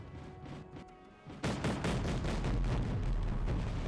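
Arma 3 gunfire erupts after a quieter opening second, turning into loud continuous booming volleys and heavy shots that carry steadily to the end.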